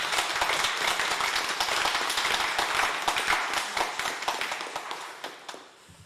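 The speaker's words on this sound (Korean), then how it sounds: "우리 감사 박수 한번 서로에게 하겠습니다." A church congregation applauds together in a hall, with dense, fairly loud clapping that stays steady and then thins out and fades toward the end.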